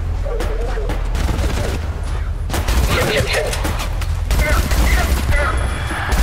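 Bursts of gunfire from enemies in the shooter game ADACA rattle continuously, loud and overlapping, with a person talking over the shots.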